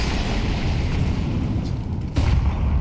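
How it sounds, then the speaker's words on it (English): A high-explosive grenade goes off in Counter-Strike 2 during a pro match, a dense rumbling boom under steady game noise, with a sharper burst near the end. "Hefty nade for 23 to deal with"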